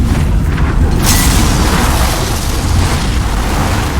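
A fire burst cycle in Demon's Souls Remake on PS5, a loud continuous roaring rumble that swells suddenly about a second in and keeps rolling heavily.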